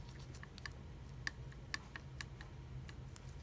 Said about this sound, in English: Manny, the shafts are worn, and the body is worn so that these things click, make noise